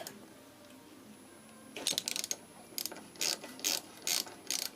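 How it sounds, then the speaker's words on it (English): Ratchet wrench clicking in short bursts while loosening the rear brake pad retaining pin on a Honda NC700X motorcycle, close and crisp, starting after a quiet pause and repeating in several rhythmic runs. "So I'm just going to undo that pin or loosen it off"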